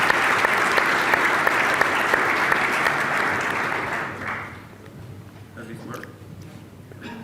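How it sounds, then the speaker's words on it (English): Audience at an investor conference chat applauding, loud dense clapping for about four seconds that then fades out into quieter room noise with a few scattered claps. "A round of applause for the capable microphone people."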